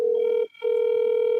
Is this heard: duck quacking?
no